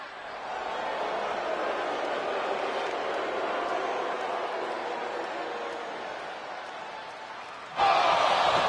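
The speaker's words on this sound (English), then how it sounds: "And this crowd is buzzing over that." Virtual arena crowd in the WWE 2K25 wrestling game buzzing steadily as a broad, continuous murmur, with a louder swell near the end.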